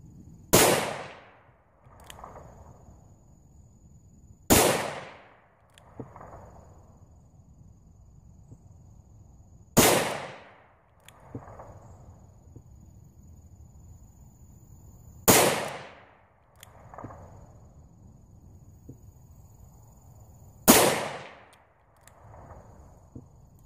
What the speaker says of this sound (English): This thing's shooting low. I just shot below my target.